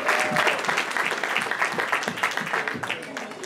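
Crowd claps for an officer being introduced at a BanglaRongo 2024 community event, with dense, lively applause continuing through the short span while voices carry over it.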